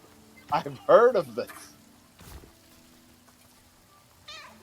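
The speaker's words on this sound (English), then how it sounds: "There's so many cats." Cats in the video game No Rest for the Wicked let out a few meows, one short and one longer, drawn-out call close by, then a faint meow further off, with a brief soft splash between them and no talk.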